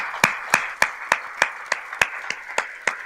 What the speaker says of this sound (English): I invite you all to stand and join hands in applause as Mr. Edward Mackey makes his way to collec